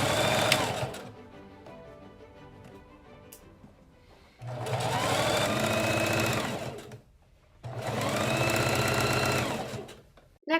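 A sewing machine stitches twill tape onto a Victorian bustle cage in two long, steady, close runs of rapid mechanical chatter, preceded by quieter handling sounds.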